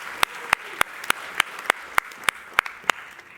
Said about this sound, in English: Big round of applause for the volunteer here.